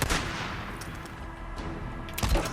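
Gunfire from the video game Days Gone cracks in a short burst, a few loud sharp shots with a rumbling tail between them, close and alone.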